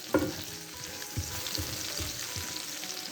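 Potatoes sizzle steadily in a skillet with a broad crackling hiss, broken by several close, dull scraping stir strokes at irregular intervals; no voices.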